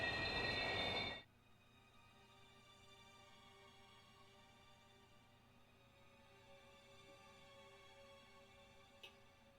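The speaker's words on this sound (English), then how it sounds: "Sparks fly as the train slams on its brakes." A train brakes hard as it pulls into a station in the visual novel Steins;Gate. A loud, harsh burst comes first, then quickly drops to a low, steady rumble with faint ringing tones that carry on to the end.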